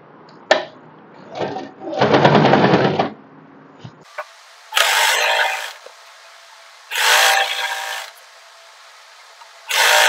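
A sewing machine stitches a co-ord set in short bursts. Several loud whirring runs of one to two seconds are separated by pauses and small clicks, heard up close.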